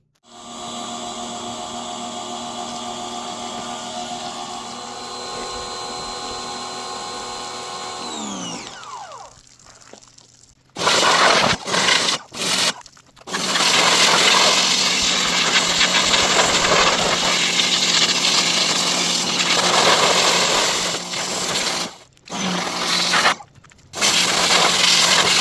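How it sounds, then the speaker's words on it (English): A pressure washer blasts a greasy Jeep axle and chassis: a steady motor hum first, then loud, continuous hissing spray broken by a few short pauses, close by with no talking. "Let's pressure wash it real quick before we put it in the Jeep."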